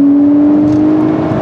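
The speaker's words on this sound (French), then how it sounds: "Dès qu'on passe en manuel, je ne sais pas si on entend très bien en vidéo, moi je suis en sous-régime, on entend quand même un peu plus le moteur" Porsche 911 engine held at low revs in manual mode gives a steady, loud in-cabin drone with a constant low hum and no revving.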